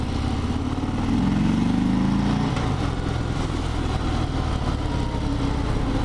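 A 2020 Harley-Davidson Fat Bob motorcycle engine runs with a steady, throaty rumble, swelling briefly in a short rev near the start before settling back to a loud, continuous idle-like drone.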